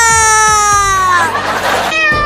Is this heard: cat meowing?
yes